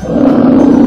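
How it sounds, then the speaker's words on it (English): A polar bear roars in one sustained, loud, rough call lasting just under a second, close and alone with no other sounds. "Polar bear."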